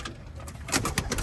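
Racing pigeons coo in a breeding loft, a soft, low, repeated cooing from nearby birds in short overlapping bursts, louder toward the end, with no talking.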